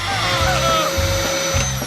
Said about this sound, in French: un aspirateur!